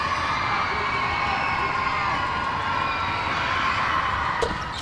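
Crowd at a Gonzaga vs Portland women's basketball game roaring and cheering loudly and continuously, with shrill whoops and high shouts, one sharp transient near the end.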